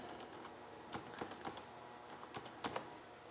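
Typing on a computer keyboard, with a steady run of individual key clicks and a few louder taps in an uneven rhythm, close up and alone in a quiet room.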